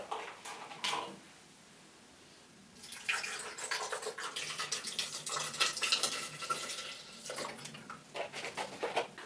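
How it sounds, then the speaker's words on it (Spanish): Plant milk poured into a blender with half a lemon's juice for a Budwig cream breakfast: a short trickle, a pause, then a longer splashing, gurgling pour with some bubbly drips near the end. "un chorro de leche vegetal"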